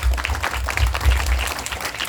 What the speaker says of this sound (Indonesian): Tepuk tangan untuk Ania.